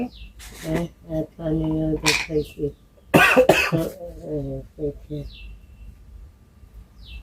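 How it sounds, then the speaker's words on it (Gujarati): A person coughs a couple of times, sharp and close, among stretches of conversation from several people in a home. "આ ઉધરસ આવે ને બધું ના ખવાય"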